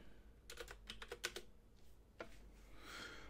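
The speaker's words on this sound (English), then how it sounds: "I'm going to type it here." Bursts of quick keystrokes on a computer keyboard, a rapid cluster of clicks followed by a few scattered taps and a soft shuffle, fairly close and quiet, with no voices.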